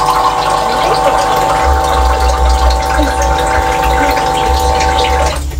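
Water pours steadily into a mixing bowl in a home kitchen during cooking and baking, a continuous close rushing flow with a low hum running under it.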